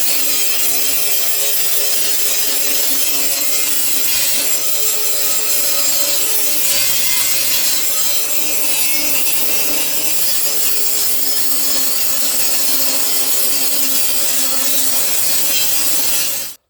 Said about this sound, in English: I've just used the electric grinder with stone on it. Grinded it off on the inside.